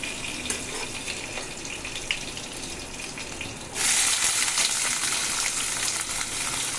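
Thin-sliced papaya with black cumin fries in a pan, a steady crackling sizzle that jumps suddenly louder and brighter midway as the papaya is added, then stays strong and close.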